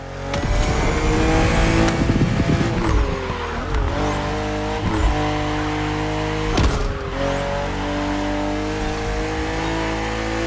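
A BMW M car, an M 50th-anniversary CSL-style model from the racing game The Crew Motorfest, revs and accelerates loudly with rising engine tones, a brief tire squeal and repeated gear-shift dips, continuous throughout.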